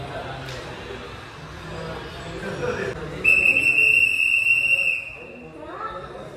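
A steady, shrill whistle sounds for about two seconds, fairly loud, after and over murmuring voices.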